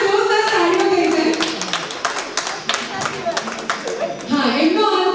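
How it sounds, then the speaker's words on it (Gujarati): Loud, dense clapping from a group, including children, rising and falling in waves with voices chattering underneath throughout. "જોરદાર તાળીઓ થઈ છે"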